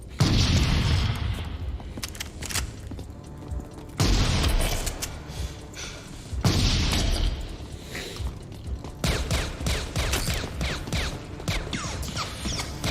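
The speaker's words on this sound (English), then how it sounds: "The Beretta in this movie is pretty funny to hear how pew pew pew, like it literally has that sound" Beretta pistol gunfire from the film Terminator 2: Judgment Day, heard as loud, sharp shots with ringing echoes, several separate bursts and then a fast, rapid volley toward the end, with no talk.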